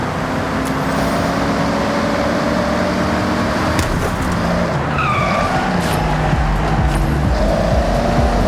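A Plymouth Barracuda with a 426 Hemi engine in the racing game Forza Horizon roars loudly and continuously, with tires squealing and skidding over the steady engine drone.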